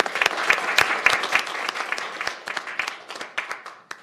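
Applause fills a county council meeting chamber after a proclamation is adopted, a dense burst of many hands clapping that thins gradually into scattered claps over several seconds.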